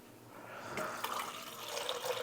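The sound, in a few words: pouring reverse osmosis water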